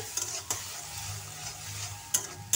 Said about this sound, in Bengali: এটা ঢেঁড়সের একটা তরকারি করছি। মশলাটা ঢেলে দিয়েছি